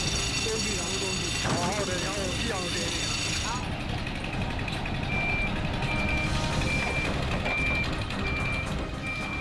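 A truck reversing at a raw stone mine in Myanmar, its steady repeating backup beeps sounding over rumbling engine noise during the first few seconds before fading into continuous heavy machinery and truck din.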